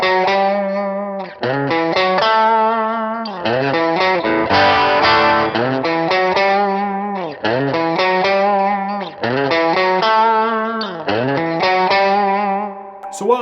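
Electric guitar playing the riff from the chorus of a song, repeated sliding phrases with a distorted, chorus-tinged tone, loud and close, looping several times with brief gaps and no talking.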